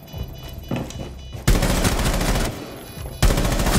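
Pistol gunshots in Rainbow Six Siege, two loud sharp bursts of close gunfire breaking over quieter game ambience, each sustained and punchy, with no talking.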